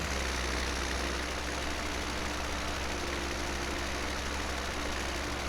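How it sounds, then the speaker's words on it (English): A John Deere 4020 tractor engine running steadily in Farming Simulator 17, a loud, unchanging drone with no variation in pitch and no voices. "I've got the 4020 here, by the way. It's the tractor I'm running."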